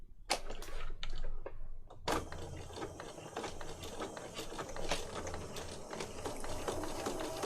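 A sewing machine runs steadily with its presser foot guiding stitches along the edge of paper for a boho file folder journal, a close, continuous mechanical whirring and clatter after a brief start-up, with no talk.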